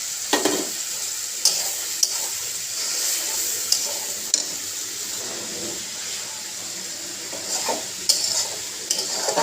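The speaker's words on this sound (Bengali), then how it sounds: "এই মশলাটা দিয়ে দেবো। এটা দিয়ে একটু কষিয়ে নেবো।" Ground spices sizzle in hot oil with fried onion and garlic, stirred with repeated scraping strokes against the pan over a steady loud hiss.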